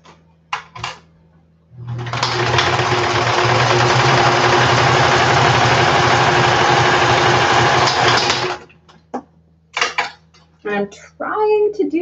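A sewing machine stitches down a tapered panel on a butterfly costume in one steady, fast whir lasting several seconds, framed by soft handling clicks before and after.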